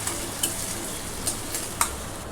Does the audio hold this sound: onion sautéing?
yes